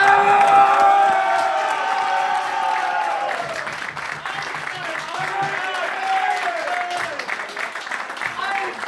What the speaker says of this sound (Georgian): ახალი ოვაციები